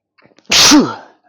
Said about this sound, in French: Juste une minute, on va éternuer.